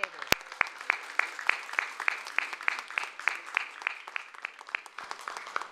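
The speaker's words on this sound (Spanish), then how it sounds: "Y un aplauso para ustedes." An audience claps in a steady, rhythmic beat at a government inauguration of a community child care centre in Peru, with evenly spaced sharp claps continuing at moderate loudness throughout.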